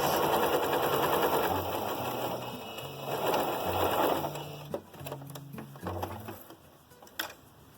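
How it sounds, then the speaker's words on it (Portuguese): A sewing machine stitches a fabric seam at the join of two pieces for a small car trash bag, its needle chattering in quick rhythmic bursts up close with brief stops between runs. "você tem que fazer a costura bem no meio da junção dos tecidos"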